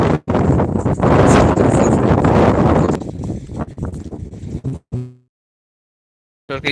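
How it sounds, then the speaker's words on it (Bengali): Strong wind gusts batter the microphone in an open field on a sheep farm, loud and rumbling for about three seconds, then easing into weaker buffets before a short silence. "আর অনেক বাতাস হতো আমি মাঠের ভিতরে আছি যেহেতু"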